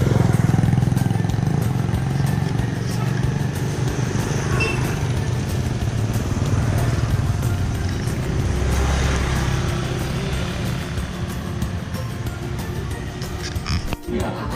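A motorbike rides steadily through a village in Vietnam's Mekong Delta, its engine a continuous loud drone with road rumble that stays up close for the whole stretch.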